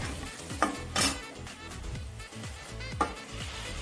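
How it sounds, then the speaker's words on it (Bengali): Potatoes frying in oil in a covered pan give a moderate crackling sizzle with a few sharp clinks and knocks of utensils and cookware, steady and close, with no voices. "এই তেলের মধ্যে আমি এবার দিয়ে দেবো আলু। আলুটা দিয়েও আমি খুব ভালোভাবে ভেজে নেবো"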